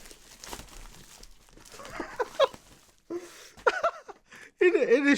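Packaging crinkles and tears as a used Elgato Stream Deck XL, shipped in a shoebox, is unwrapped, with bursts of crumpling and rustling, plus occasional close talk.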